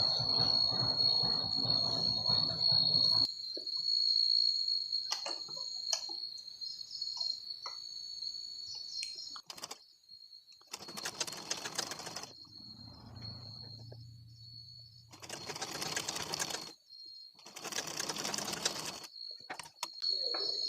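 A sewing machine runs in several separate bursts while stitching the side of a fabric piece for a puff sleeve on a blouse, with a steady high insect-like whine throughout and quiet gaps between the runs.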